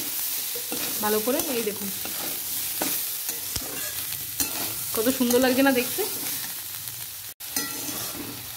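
Bottle-gourd peel and potato fry with turmeric powder is stirred in a pan, a soft scraping and sizzle that swells in two stirring bursts while someone talks over it.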